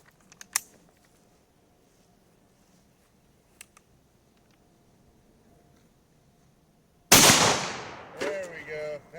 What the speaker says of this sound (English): I'm going to go ahead and shoot it at close range